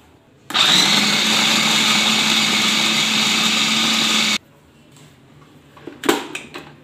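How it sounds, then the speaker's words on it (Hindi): An electric chopper grinds chicken in one loud, steady whir lasting about four seconds, then stops abruptly, followed by a few clatters and knocks of handling. "अब हम चॉपर में डाल देंगे चिकन"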